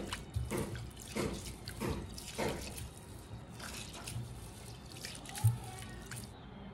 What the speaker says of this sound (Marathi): हे आपल्याला छान असं 2दा पाण्यामध्ये धुवून घ्यायचं आहे